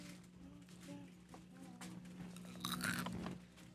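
Close crunching and chewing sounds come in irregular bites, fairly faint over a steady low hum, growing louder near the end.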